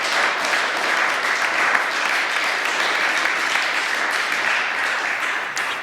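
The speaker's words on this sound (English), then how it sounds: "Let's give them a round of applause" A school assembly crowd applauds the cast and crew of a play, a steady wash of many hands clapping at a moderate level, continuous from start to finish.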